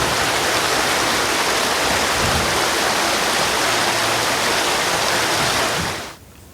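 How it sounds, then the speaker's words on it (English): Water rushes through a small creek over rocks in a dense, steady hiss of flowing water, loud and close, then cuts off abruptly near the end. "The rushing water through the small creek, crashing against rocks"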